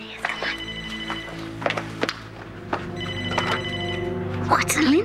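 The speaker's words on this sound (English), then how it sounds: "Oh, there's the phone." A telephone bell rings in repeated bursts, loud and near, with footsteps and a thunk in the room and a speaking voice around the rings.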